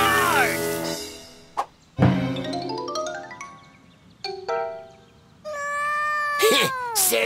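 A cartoon cat meows and yowls repeatedly in high, sliding cries, mixed with a few sharp knocks and a bright ding, with some voice in between.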